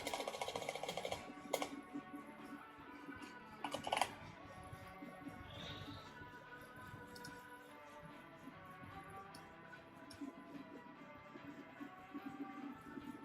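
Soft clicking of a computer keyboard being typed on, faint and close, with an irregular patter of keystrokes over a low steady hum, a couple of sharper clacks early on.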